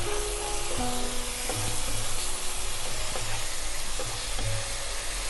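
Spices mixed with sugar and a little water stirred in a hot frying pan, a constant loud sizzle and hiss with faint scraping of the spatula throughout, no talk.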